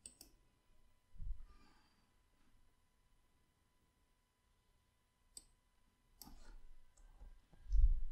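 Computer mouse clicks during software use, a few sparse, sharp, quiet clicks separated by near silence.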